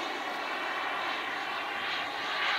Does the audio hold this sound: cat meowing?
no